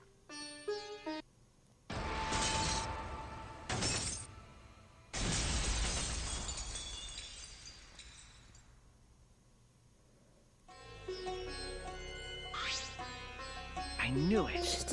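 Glass shattering after a hammer is thrown at it in the Danganronpa V3 video game, heard as two loud broadband crashes with crumbling debris in the middle of the clip, framed by game music and effects.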